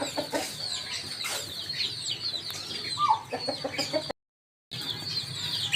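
Chickens cluck steadily, close and scattered, with birds chirping around them; a brief dropout of total silence interrupts near the end.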